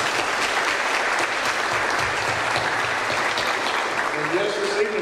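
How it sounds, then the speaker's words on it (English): An audience at a high school Teacher of the Year event gives a steady, dense round of applause that holds evenly throughout, with a voice faintly emerging near the end. "Let's give all these folks a round of applause."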